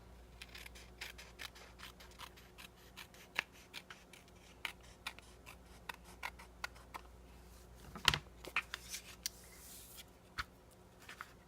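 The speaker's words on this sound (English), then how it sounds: "you just take your scissors" Scissors snip quietly through card stock in a string of small, sharp clicks, trimming excess, with a few louder cuts and some paper rustle in a quiet room.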